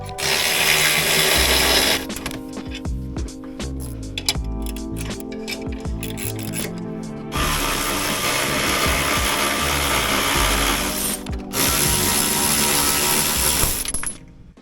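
A hand tool works loose a coilover on a C10 truck chassis fitted with an AWD Escalade swap, giving steady close mechanical rattling and grinding in loud bursts with short pauses between them.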